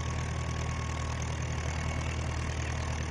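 A tractor engine idles in Farming Simulator 19, a steady, loud, low rumbling drone that holds without change throughout.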